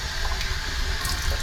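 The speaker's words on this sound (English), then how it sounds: "Give me a second to wash my face." Tap water runs steadily as someone washes their face, a close continuous splashing flow for a brief moment.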